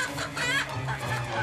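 A chicken clucks in quick, busy bursts as it scrambles away from a person chasing it, close and fairly loud, with a low background hum underneath.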